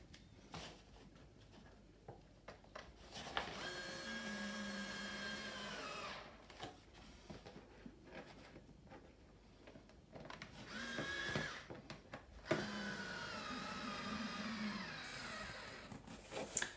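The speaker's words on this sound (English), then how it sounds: "I'm just putting that shopping basket frame back in its proper peg holes and then screwing it in." A small power driver whirs in several sustained bursts while screwing the shopping basket frame back onto a Stokke Trailz stroller, close and fairly steady, separated by brief handling clicks and pauses.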